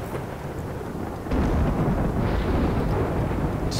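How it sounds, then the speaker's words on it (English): Rainy thunderstorm in the video game RimWorld: a steady wash of rain under a deep rolling rumble of thunder that swells partway through and keeps growling, with no voices. "So, rainy thunderstorm."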